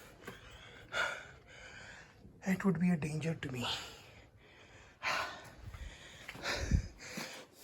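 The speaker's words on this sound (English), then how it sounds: "Sorry about all the panting. I'm strictly out of my shape" Heavy, ragged breathing and gasps from a hiker climbing uphill on a fort trek near Bangalore, close to the microphone and mixed with bits of quiet speech.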